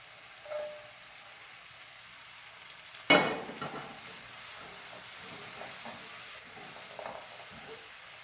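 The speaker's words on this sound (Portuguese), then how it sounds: "Aqui agora eu já vou colocar linguiça também." Linguiça sausage drops into hot oil in a pan for feijão tropeiro, starting with a sudden loud sizzle that settles into a steady frying hiss, with faint stirring scrapes and no talking.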